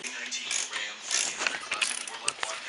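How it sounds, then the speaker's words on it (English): Quick rattling ratchet clicks in a home garage as car axle nuts are tightened after a clutch install, repeated bursts of metallic ticking close by. "Right now we tighten up the axle nuts."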